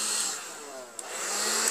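Windovac window vacuum powered on to suck up washing water, a steady high motor whine with airy suction hiss, close and constant apart from a brief dip and click midway, no talk.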